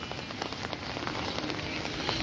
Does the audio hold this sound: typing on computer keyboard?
no